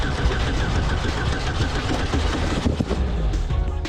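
Hot Formula Vee race car engine with flooded carburetors failing to start, a steady rough cranking and churning mechanical drone that runs loud and unbroken, close by, with no voices.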